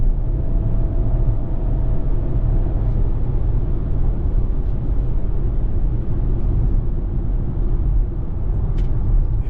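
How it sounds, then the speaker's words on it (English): A 2024 Chevrolet Trax RS accelerates hard, its engine and road rumble heard from inside the cabin as a loud, steady drone with subtle dips where the transmission shifts through gears. "Now it kicks in. But that transmission is shifting very well."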